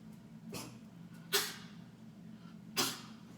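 A dog indoors lets out three short, sharp snorting bursts, like sneezes or huffs, spaced roughly a second apart over a steady low background hum.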